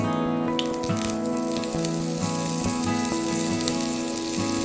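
Moringa leaves frying in hot coconut oil give a steady, close sizzle with crackling spatter and occasional pops, continuous throughout.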